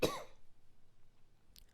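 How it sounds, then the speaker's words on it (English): A single short cough from a person recovering from being sick, close and fairly loud at the very start, then near silence with a faint brief click near the end. "Excuse me, I have a really bad cough."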